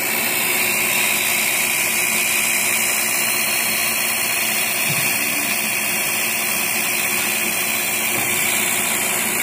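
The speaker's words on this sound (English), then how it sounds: "So we're just finishing up the final pass on the sidewall." A milling machine making a light final pass along the sidewall of a long silicon bronze part, giving a steady, loud mechanical whine and hum that runs unbroken without speech.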